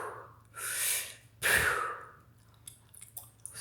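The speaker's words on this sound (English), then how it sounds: "So you're just breathing in." A person draws two sharp breaths in through the mouth and nose, close and fairly loud, then a few faint clicks and small mouth sounds follow.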